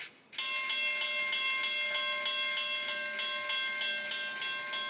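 A train in Puerto Rico rolls in loudly after a brief quiet moment, with rhythmic clickety-clack pulses and a sustained tonal whine running steadily to the end.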